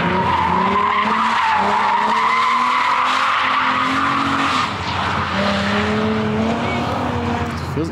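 A drift car with a welded differential skids at a drift event, tires squealing in long wavering howls over a roaring engine, loud and sustained from nearby as the car slides.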